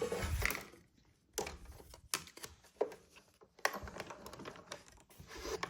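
An embossing folder holding cardstock is cranked through a manual die-cutting machine, giving quiet clicks and short grinding bursts separated by pauses, close by and faint.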